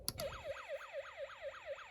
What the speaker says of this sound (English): More like a police car siren.